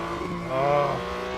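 A race car in a racing video game skids, a brief rising tire squeal over a steady engine drone, loud and close, swelling then fading within about a second.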